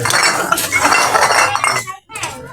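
Glass bottles clink and rattle against one another in a dense, busy jumble while junk is being collected, loud and close, then a brief pause before more clinking resumes.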